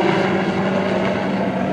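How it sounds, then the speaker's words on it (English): A helicopter flies a pattern over Walker County dropping oral rabies vaccine baits, its engine and rotor making a steady, loud, droning hum with no voices. "you may notice a helicopter flying in a pattern over Walker County."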